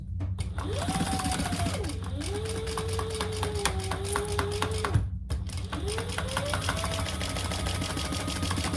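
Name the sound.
sewing machine top stitching hip bag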